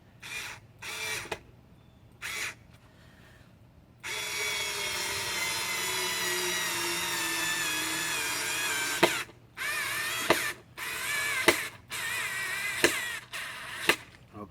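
A SKIL 4V Pivot Grip USB rechargeable screwdriver drives a screw straight into a board without a pilot hole. Several short whirring bursts lead into one long continuous grinding run, followed by a series of quick stop-start bursts with clicks, all close-up and without talk.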